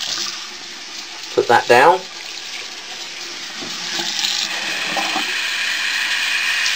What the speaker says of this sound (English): So we'll turn on the warm water, we fill it up to there, that's 8 ounces.